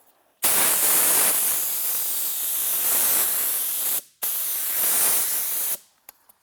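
A paint spray gun painting a car hisses in two long sustained bursts, loud and close, separated by a brief pause, then a couple of short final puffs.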